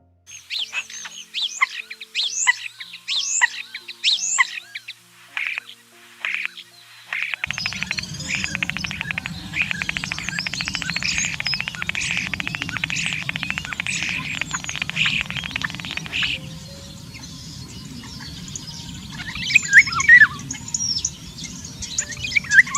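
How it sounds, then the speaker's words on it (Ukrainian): Starling song: a varied run of whistles, clicks, chatters and rattling phrases, close and clear, with a denser buzzing stretch in the middle and sharp whistled notes near the end. "Шпак"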